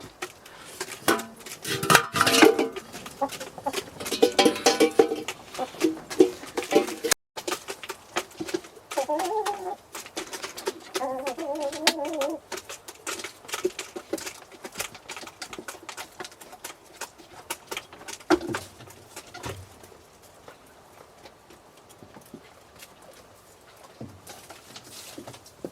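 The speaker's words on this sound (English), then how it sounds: "Hopefully very happy hens this morning." Hens cluck and call on a farm in the morning around feeding time, a busy mix of nearby bird sounds that is loud at first and then thins and fades.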